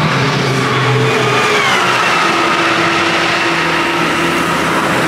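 Several race car engines, including a Porsche, rev and roar at once on a race track, loud and close, with pitch rising and shifting as they accelerate, continuous throughout.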